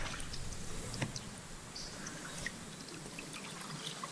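Fast-flowing water on the Eleven Point River in Missouri where a spring enters a deep pool, a steady soft rushing wash with occasional faint splashes, heard from a kayak.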